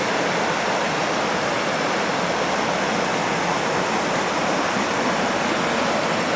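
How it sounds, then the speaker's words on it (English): A small waterfall pours through a channel at Utawala, giving a loud, steady rushing roar of water that fills the whole clip without pause and with no voices. "Yeah, there's a small waterfall there."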